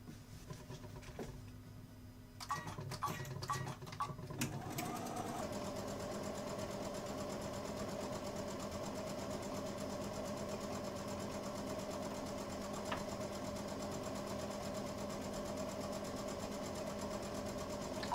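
A Brother-brand sewing machine stitching fabric: a few clicks and handling noises first, then a steady, fast mechanical whir that runs on without pause, fairly faint and close.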